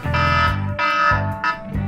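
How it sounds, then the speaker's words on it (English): A timer alarm goes off in repeated loud buzzing bursts, each about half a second long with short gaps, alone without talk. "So that was the timer."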